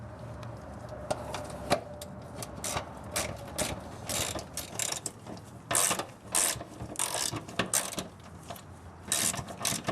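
A hand ratchet clicks in quick uneven bursts while loosening the four 17mm bolts on a Nissan 240sx S13 transmission cross member, close and alone with faint metallic clinks between runs.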